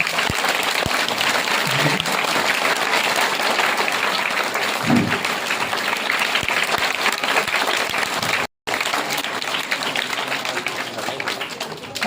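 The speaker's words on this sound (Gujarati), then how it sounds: "આપણે જોરદાર તાળીઓ છે" Loud, sustained applause from a crowd at a school admission festival continues at close range, with a short cut near the end.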